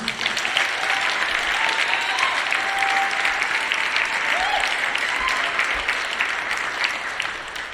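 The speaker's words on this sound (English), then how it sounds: "So let's give them another round of applause." Steady, dense applause from an audience for a high school treble choir, sustained loudly throughout and easing off slightly at the very end.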